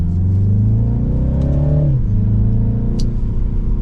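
A 2024 Mini Cooper S Clubman All 4 in sport mode revs up loudly from inside the cabin, its engine note climbing steadily, dropping sharply at a gear change, then pulling again.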